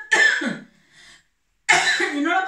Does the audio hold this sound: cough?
yes